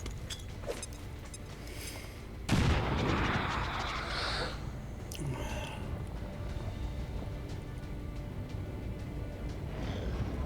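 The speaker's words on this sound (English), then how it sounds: "Let's get it right on this square so we get the full grenade damage." A single grenade explosion in the turn-based strategy game XCOM 2, a sudden loud burst with a rushing rumble that decays slowly over a steady game background hum, no talk.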